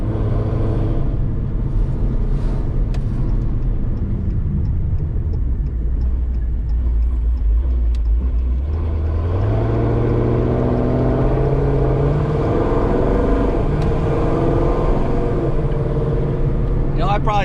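Deep steady engine rumble from a Dodge Scat Pack with a 392 Hemi while driving, loud and close throughout, with the pitch rising as the car gets up to speed.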